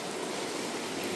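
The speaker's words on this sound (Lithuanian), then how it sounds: "O taip įdomiai bėga per sieną mineralinis vanduo." Mineral water runs down a wall at a spa sanatorium in Birštonas, giving a steady, close hiss of trickling, splashing water with no voices.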